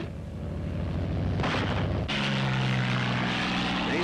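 WWII American Thunderbolt fighters with propeller engines, a loud droning roar that surges partway through and then settles into a steady, throbbing hum.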